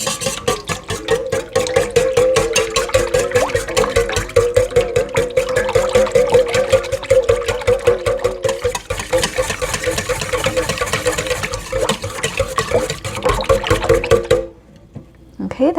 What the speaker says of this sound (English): So I want to whisk all of that up.